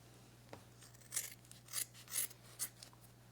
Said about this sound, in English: All I'm doing is just trimming right next to the staples.